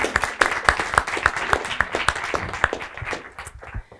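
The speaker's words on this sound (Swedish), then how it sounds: "Vi ger honom en applåd." A small audience at an architecture seminar claps in a brisk, fairly even rhythm, with distinct individual claps standing out close by before the applause thins and fades at the end.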